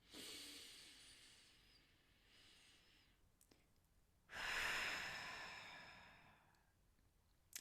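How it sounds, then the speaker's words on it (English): A slow, deep breath drawn in during a calm guided tapping session for birth trauma. Soft airy breaths come first, then one long, full inhalation swells loudly and tapers off gently, with no talking. "Just take a deep breath in."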